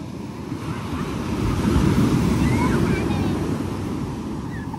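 Ocean surf rolls against the shore, a steady loud wash that swells in the middle, with wind buffeting the microphone throughout.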